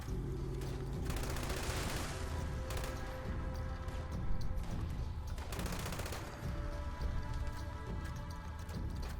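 Explosive light machine gun firing in Fallout 76, a dense, continuous rattle of rapid shots with overlapping blasts, loud and close, running steadily with brief pauses between bursts.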